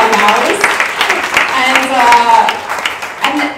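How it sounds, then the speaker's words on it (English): Audience applause for volunteers, board and staff at a community panel event on everyday racism, a dense wash of clapping at steady loudness throughout. "please give them a round of applause"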